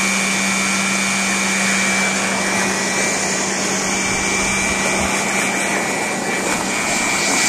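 A new blower runs on a wood gasifier, a loud, close, steady whooshing drone with a constant pitched hum that holds unbroken throughout.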